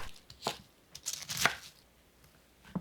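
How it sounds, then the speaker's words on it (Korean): A knife chops through a handful of cabbage for spicy tteokbokki, a few sharp crisp cuts with crinkly leaf noise, close and sparse, no talking. "양배추 1줌 썰어 주세요."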